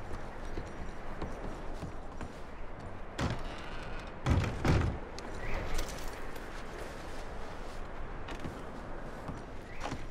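Horses moving in Red Dead Redemption 2, steady clip-clop of hooves with a few sharper knocks and thuds over a busy outdoor background, and no talking.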